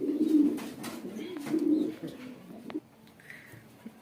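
Soft, low coos of fancy pigeons, including a bokhara, repeat a few times close by in a loft, with faint rustling and a brief higher chirp toward the end.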